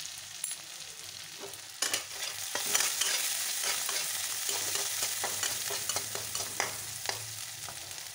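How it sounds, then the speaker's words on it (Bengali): Chopped onions with a little salt frying in a pan give a continuous crackling sizzle up close, with repeated soft scrapes and taps of a spoon stirring through them and no voices. "এখানে পেঁয়াজটা ভাজা হয়ে গেছে।"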